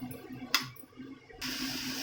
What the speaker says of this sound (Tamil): ஜார் கழுவு தண்ணி கொஞ்சமாக சேர்த்துக்கிட்டா போதும்